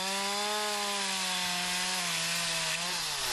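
Chainsaws cutting wood in a planted forest in Sierra Espuña, with one close, loud engine droning at a steady high pitch that sags slightly under load as the chain bites, continuous with no talk.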